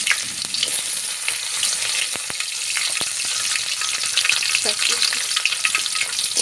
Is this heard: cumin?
yes